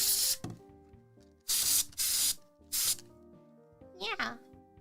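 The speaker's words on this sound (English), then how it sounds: "I'm gonna give this another spray." A spray bottle of cleaner mists onto a dirty keyboard in four sharp hissing bursts, close and loud, over a quiet backing melody, with a short vocal sound near the end.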